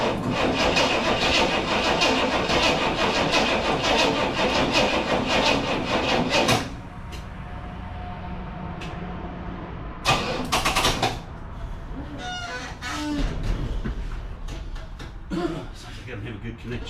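A car not started in a long while cranks steadily and loudly for several seconds, then stops, followed by clunks and scattered mechanical knocks; a poor connection keeps it from starting.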